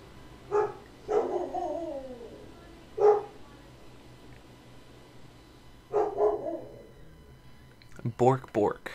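Video game dogs in Nier Replicant bark in a string of separate woofs spread across several seconds, loud and close, with a quick cluster of barks near the end.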